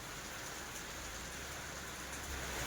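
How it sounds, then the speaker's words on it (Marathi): Steady, dense rain pouring down with a constant hiss, fairly distant and uniform throughout, no voices. "लय मोठा पाऊस पडलाय"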